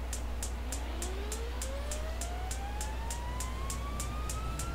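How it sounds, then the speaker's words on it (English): Turbine engines of a Beech King Air 350 in X-Plane 11 spool up, a whine rising steadily in pitch over a constant low rumble, with evenly spaced sharp ignition ticks repeating throughout. "we hear the turbines"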